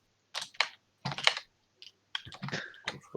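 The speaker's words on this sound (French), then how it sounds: "On t'entend taper sur ton clavier." Typing on a computer keyboard during a Roblox stream, close and fairly quiet, with clusters of rapid key clicks separated by short pauses.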